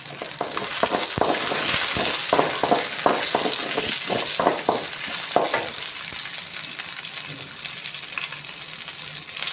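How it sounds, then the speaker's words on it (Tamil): Black pepper and onions roast together in an oiled pan for a mullu murungai chutney, with a continuous sizzle broken by a run of sharp spoon-scraping clicks before settling into even frying. "வெங்காயம் நல்லா வதங்கி வந்ததும் இந்த மிளகையும் இது கூடவே சேர்த்து வறுத்துக்கணும்"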